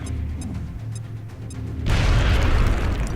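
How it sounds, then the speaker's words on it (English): A grenade detonates in X-Com: Enemy Within, its loud, broad boom hitting abruptly after a quieter stretch of soft game ambience and rumbling on for over a second. "So, grenade."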